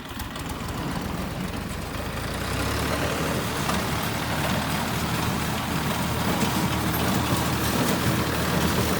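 A DTZ 5354 tractor pulls away across a hay field, its diesel engine rumbling steadily and growing slightly louder as it moves off, with no one speaking.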